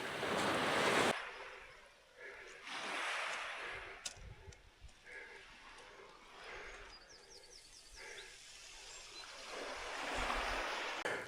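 Surf washing onto a beach along the south west coastal path, broad rushing swells rising and falling at moderate distance, with some wind buffeting the microphone.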